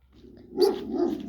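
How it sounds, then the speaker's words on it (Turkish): A dog barks close by, two rough, slightly growly barks in quick succession. "Arkadaşlar bak havlama sesleri geliyor."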